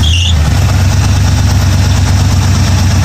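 A Chevy truck's engine, fitted with a rebuilt Holley carburetor, catches and runs loud and close. A steady low rumbling idle holds for the full stretch with no voices.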